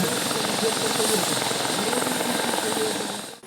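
A helicopter flies overhead during rescue training by emergency and security services, with a loud, steady rotor and engine roar that fills the whole stretch before cutting off abruptly at the end.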